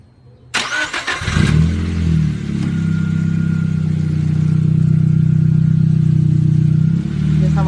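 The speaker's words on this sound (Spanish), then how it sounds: "Vamos a encender el vehículo y vamos a girar nuevamente las llantas." A car engine cranks and fires, then settles into a steady, loud idle while the wheels are turned to bleed power steering fluid after a fluid change.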